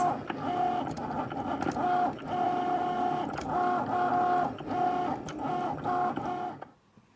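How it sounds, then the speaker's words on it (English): A cutting machine slices glitter vinyl with a steady, close motor whine broken by repeated stop-start pulses as the blade carriage moves back and forth, then it falls quiet at the end. "it will go ahead and cut this lovely glitter vinyl into"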